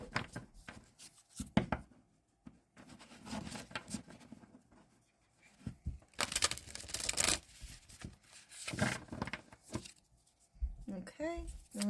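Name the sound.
shuffling tarot cards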